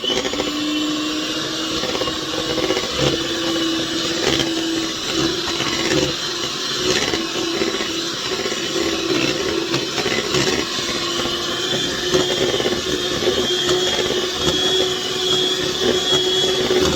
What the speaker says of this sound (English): cream together this peppermint extract and this sweetened condensed milk with a mixer